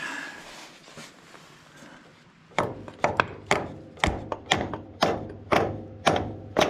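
Hammer tapping on a rusted metal part to break it free: after a quiet lead-in, about ten sharp, ringing knocks land in a steady rhythm, close and loud.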